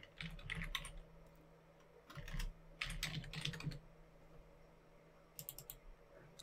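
Rapid bursts of computer keyboard typing, quiet and close, come in uneven clusters of clicking keystrokes separated by short pauses.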